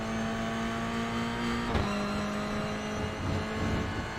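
Toyota GR86 engine in a racing sim game holds a steady, loud drone with a small dip in pitch midway as the throttle is held through a corner, with no voices over it.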